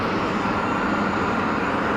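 An EasyJet airliner passing low over the airport fence, a steady broadband jet roar held at even loudness, close and without any voices.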